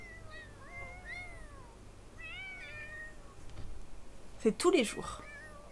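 Several cats meow in The Sims 4 wedding game pack, a series of rising and falling mews spread across the clip, with a louder, harsher burst of cries near the end over quiet in-game background noise.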